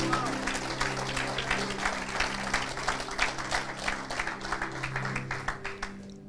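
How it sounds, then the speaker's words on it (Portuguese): A church congregation applauds during a service, dense sustained clapping from many hands over a low hum, fading out at the end with no speech on top. "Pode aplaudir ao Senhor."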